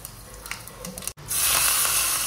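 Mustard seeds and asafoetida hit hot oil for a chutney tempering. Quiet kitchen clatter gives way to a sudden loud, sustained hissing sizzle.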